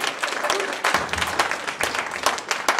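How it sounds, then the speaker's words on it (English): Comedy club audience applauding in a steady burst of dense clapping, close and fairly loud, with a few scattered louder claps throughout. "Give yourselves a round of applause for coming out and seeing some goddamn live comedy"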